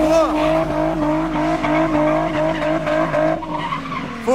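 A car drifts with the handbrake pulled, its tires squealing loudly and continuously in long wavering screeches under the engine roar, while people shout excitedly nearby.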